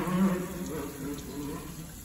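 Steady flow of sacred spring water pouring at a mountain shrine on Mount Ontake, a soft continuous splashing and trickling close by with a faint low hum underneath.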